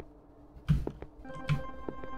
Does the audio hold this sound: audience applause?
no